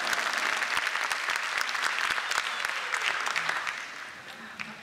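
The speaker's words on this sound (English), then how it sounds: "Let's have a nice round of applause" Audience applause at a live Durban talk-show event with Zeenat Aman, a dense, steady wash of many hands clapping that carries on for the whole stretch and eases slightly near the end.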